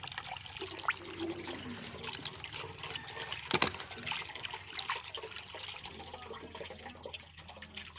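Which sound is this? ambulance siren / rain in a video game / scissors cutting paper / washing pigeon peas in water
washing pigeon peas in water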